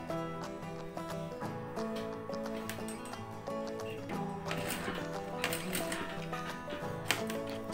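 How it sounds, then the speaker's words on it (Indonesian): Sewing machine stitching along a garment's neckline edge, a steady mechanical clatter with a rapid ticking rhythm running continuously and fairly loud throughout. "Kita lanjut menjahit."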